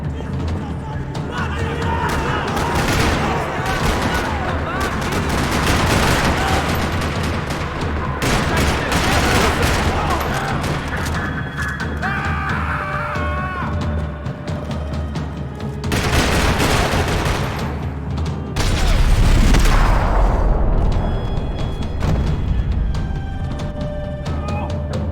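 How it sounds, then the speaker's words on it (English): Dense, sustained gunfire from the video game Max Payne 3 rattles through a parking lot, rapid automatic bursts and booms overlapping for the whole stretch, loud and close with a few louder surges. "Another parking lot rattling with gunfire."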